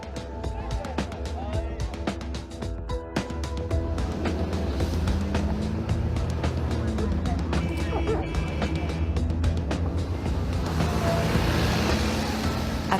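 A car driving along a dirt track in Maniema province, Congo, with continuous engine rumble and jolting, rattling road noise that grows busier toward the end while a voice speaks over it.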